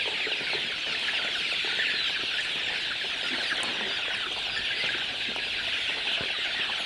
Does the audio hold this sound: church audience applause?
no